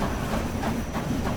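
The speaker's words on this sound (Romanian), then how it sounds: "Trenul." Train rolling past in a Roblox Wild West game, a loud steady rumble with faint rhythmic clatter across a brief stretch, no voices.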